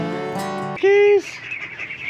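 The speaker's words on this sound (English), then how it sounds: "I have all these baby ducks here at home" Baby ducks kept in a backyard enclosure at home give one drawn-out, nasal call lasting under half a second, right after a brief voice and followed by faint rustling.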